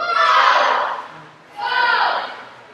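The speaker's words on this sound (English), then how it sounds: "Here, her teammates cheering her on" High school swim meet teammates in East Providence, Rhode Island cheer on a swimmer in two loud, echoing crowd bursts of shouting, each about a second long, with a short lull between them.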